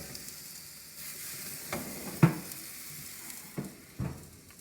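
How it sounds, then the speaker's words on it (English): Steady sizzling and frying hiss of half-pound 80/20 burgers in a hot Cosori air fryer, fairly quiet, with a few sharp pops and taps breaking through. "You hear the sizzle."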